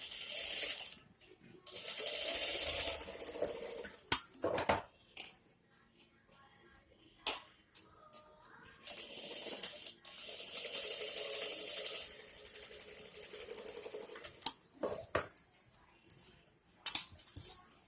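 A sewing machine stitches the shoulder joint of an embroidered blouse in quick bursts of fast mechanical whirring, stopping and restarting several times with quiet pauses and small clicks between runs.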